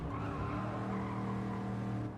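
A race car in Gran Turismo 7 brakes hard during a time trial lap, its engine droning steadily under a continuous tire squeal and skid, loud and sustained without pause.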